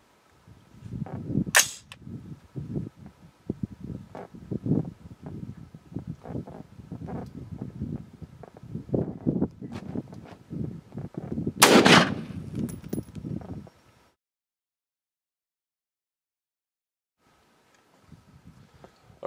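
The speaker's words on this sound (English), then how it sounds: "now let's do the XM193. This is also a 55 grain bullet, so it's the same bullet weight, but this is a brass case" A rifle fires XM193 5.56 NATO 55-grain brass-cased rounds outdoors, giving a run of roughly a dozen cracking shots, two of them especially sharp and loud near the start and middle, followed by silence.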